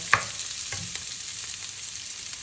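Vegetables sauté quietly in a pan, a faint sizzling hiss broken by a few soft clinks and scrapes of stirring, with no voices.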